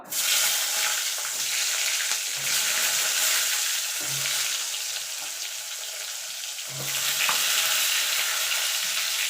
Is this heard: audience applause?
no